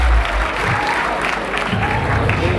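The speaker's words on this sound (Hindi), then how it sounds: "वो बस हामिद मीर साहब के लिए तालियां बजाइए" A studio audience claps for a guest on a talk show, steady applause for under three seconds with a few low thumps and some voices mixed in.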